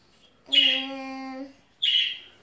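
A pet bird gives two clear chirping calls, a longer tonal whistle followed by a shorter bright chirp, close and distinct in a quiet indoor room.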